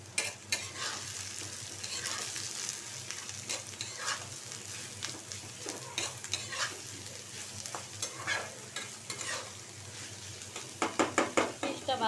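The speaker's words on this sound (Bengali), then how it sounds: "পেঁয়াজটা ভাজা ভাজা হোক" Onions fry in a pan with a steady sizzle while a utensil stirs and scrapes them in repeated bursts, close and fairly loud, with occasional clinks of metal against the pan.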